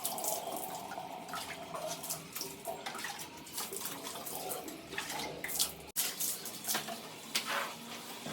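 Running water splashes into a bathroom washbasin, rinsing it clean after scrubbing with Harpic toilet cleaner and a brush, a steady close-up rush with a few knocks and clinks.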